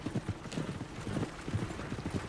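Horse hooves clip-clop at a walking pace in the video game Red Dead Redemption 2, a soft, regular rhythm of muffled thuds on a dirt path, fairly close and alone.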